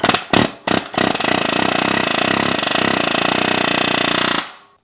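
An air hammer fires in a few short bursts, then runs in one loud continuous rattling stretch before cutting off abruptly, driving a shaft out during a vintage KDX 450 dirt bike teardown.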